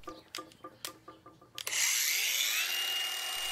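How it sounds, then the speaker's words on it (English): An angle grinder cuts through the old handle of a garden fork, starting with a few short knocks and taps before the tool spins up into a loud, steady, high-pitched whine that runs to the end. "We'll start by cutting off the old handle with an angle grinder."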